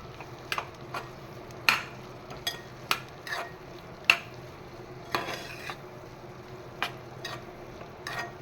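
Coriander powder being stirred in a frying pan with a spoon, which scrapes and taps the metal in irregular clinks over a soft, steady sizzle with no talking.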